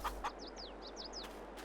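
Chickens in Farming Simulator 22 cluck in a quiet, brief burst of short calls over a faint steady game background.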